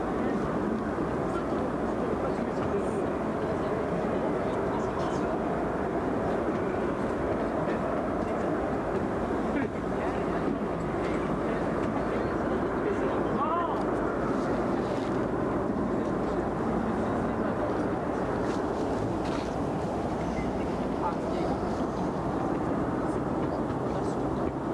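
Airbus A330 at Brussels Airport, a broad sustained jet roar lasting throughout, steady and fairly loud with a low rumbling base and faint voices beneath.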